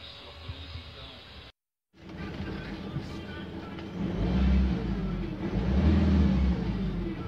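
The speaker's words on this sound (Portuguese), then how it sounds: "o motor já está funcionando" The engine of a 2013/14 Fiat Ducato van runs after a heat exchanger replacement, a low steady rumble that grows louder partway through, heard close with faint background noise.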